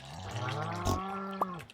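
Cows low in a Stardew Valley farm game, a single drawn-out moo with a clear pitched tone, followed by a couple of short clicks and splashy blips at the end.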